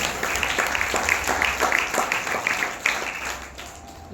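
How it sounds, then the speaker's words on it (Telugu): A church congregation clapping during Sunday worship, a steady dense patter of many hands with a rhythmic pulse, loud and continuous with faint voices mixed in. "చప్పట్లు కొట్టి ప్రభువుని స్తుతించండి"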